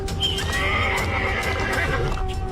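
A cartoon horse carrying bandits lets out a shrill, wavering whinny lasting a couple of seconds, with faint hoof clip-clops and a low rumble underneath.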